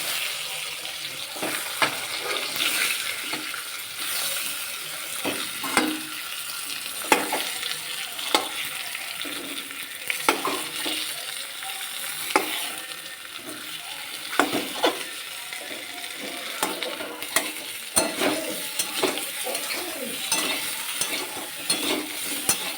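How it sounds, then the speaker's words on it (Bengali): Boiled potatoes fry in oil left from frying eggs, a steady close sizzle broken by repeated scraping and clicking strokes of a spatula stirring in the pan, with no voices. "ডিম ভাজা তেলে আলুটাকে ভেজে নেব, সেদ্ধ করে রাখা আছে, এবার আলুটাকে ভাজবো"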